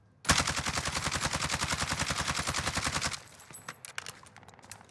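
AMAX rifle in Warzone fires one long, evenly paced automatic burst of loud rapid shots for about three seconds, then stops, leaving faint scattered clicks and tinkling shell sounds.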